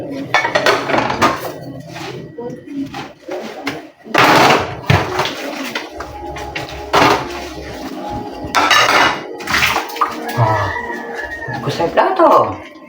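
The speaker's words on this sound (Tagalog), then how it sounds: "Hugas na yung plato." Dishes and plates are washed at a home sink. Pots, plates and cutlery clatter and clink loudly and unevenly nearby, with occasional heavier knocks, while people talk over the noise.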